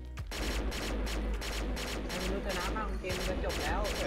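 Rapid gunfire from the shooter game XSHOT, with an M4 rifle firing repeated bursts in a steady rhythm, loud and close throughout, while someone talks over it.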